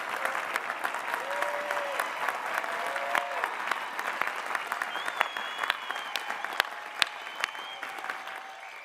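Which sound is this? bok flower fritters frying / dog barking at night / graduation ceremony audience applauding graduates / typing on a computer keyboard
graduation ceremony audience applauding graduates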